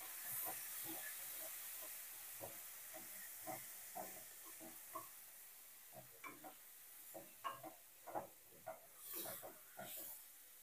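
Spice paste frying in a pan for Bengali prawn malai curry, a soft continuous sizzle and hiss broken by scattered scraping and stirring clicks that grow more frequent toward the end.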